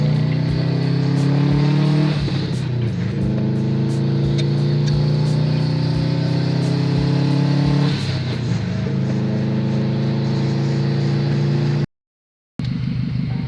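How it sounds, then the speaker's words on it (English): A Subaru WRX turbo engine revs and boosts hard, the tone climbing steadily then dropping as gears shift, loud and close, with a brief dropout near the end. "the car is boosting again. My turbo is back."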